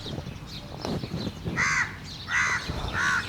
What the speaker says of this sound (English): This crow's naughty.